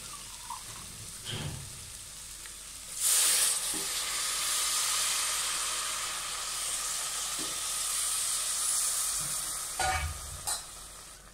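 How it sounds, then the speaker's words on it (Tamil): Coconut milk poured into a sizzling vegetable biryani masala hisses and steams in the pan, with occasional scraping stirs and soft clinks throughout, no voices. "தேங்காய் பால் சேர்த்துடலாம்."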